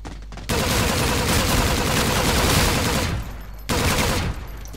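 Sustained automatic gunfire in Call of Duty: Infinite Warfare, a dense rapid burst of shots lasting several seconds, then a short pause and a second, briefer burst, loud and close.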